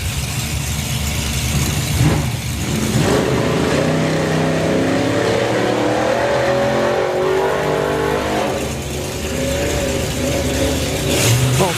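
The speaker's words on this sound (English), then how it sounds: "Rover V8 versus a very powerful supercharged" A Rover V8 hot rod and a supercharged big block hot rod race at a drag strip, with loud nearby engine roars, revving, and accelerating runs that swell and fade.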